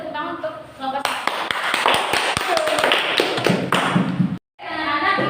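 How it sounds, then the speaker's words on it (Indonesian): Children in a classroom clap for the first group, a dense run of sharp hand claps and taps that fills about three seconds, with voices mixed in around it before a brief pause. "Silakan diberikan dulu tepuk tangan untuk kelompok satu."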